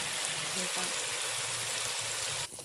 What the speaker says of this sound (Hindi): अब इसके अंदर मैं ऐड करूँगी 1 कप पानी